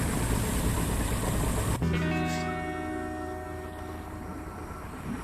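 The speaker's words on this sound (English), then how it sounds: "The engine is engaged and we are starting our ascent." An aircraft engine in I Expect You To Die starts as a loud, steady broadband roar. It then drops to a smoother, quieter hum with stable tones that hold to the end.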